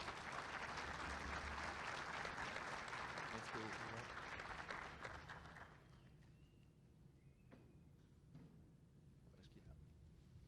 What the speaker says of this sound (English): So another big round of applause for Mr. Matt Ford.